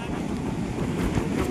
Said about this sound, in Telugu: ఇక్కడైతే చల్లటి గాలి వస్తుంది